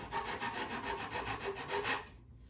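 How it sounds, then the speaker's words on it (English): Rhythmic back-and-forth rasping of sandpaper against the edge of a wooden stick, about a dozen close, even strokes that stop abruptly, leaving silence at the end. "we can sand it just a little bit more"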